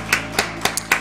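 Congregation applauding during a church worship service, heard as about five short, sharp clap bursts spaced roughly evenly, moderately loud, with no talk.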